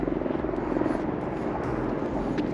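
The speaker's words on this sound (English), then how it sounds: "that was a sheriff's office helicopter, by the way." A sheriff's office helicopter, an A-Star, passes over a riverside state park campground along the Colorado River, its rotor thrum and engine drone loud and continuous throughout.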